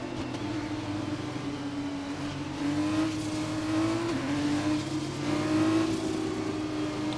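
Race cars in an F1 game on the Italy circuit, with engines droning and revving steadily throughout, rising slightly in pitch midway. The engine noise is continuous and fairly loud, with no voices.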